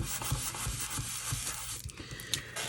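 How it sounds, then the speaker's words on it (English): A paper card piece is rubbed down by hand to stick it in place on a circle rocker card, a soft, steady scuffing rub repeating in short strokes close up, with no talking. "Give it a good rub."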